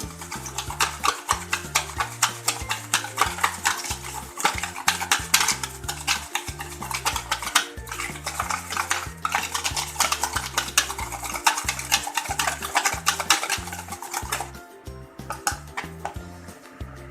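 A spoon scrapes and clinks rhythmically against a bowl while sugar is mixed into pancake batter, a brisk steady stirring with sharp metallic ticks that fades out near the end.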